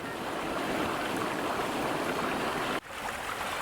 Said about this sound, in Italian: Nella fontana l'acqua sgorga nel suo punto più alto, per poi scendere formando piccole cascate e infine placarsi in una piccola piscina.